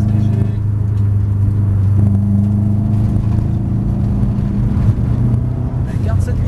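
A 400-horsepower Subaru Group A rally car engine holds a light, steady throttle, a loud continuous droning rumble with a voice speaking over it throughout.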